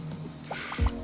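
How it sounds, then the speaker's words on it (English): Water dripping in the video game AtomCraft, a few soft wet drips and a squishy splash landing near the end, over a steady low ambient hum. "eventually that should fall as water"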